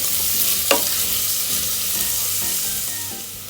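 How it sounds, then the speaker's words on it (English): Sliced small onions sautéing in a hot pan for a Kerala beef roast, a steady close sizzle with one brief scrape of stirring early on, loud and continuous with no voices. "Then saute the onion"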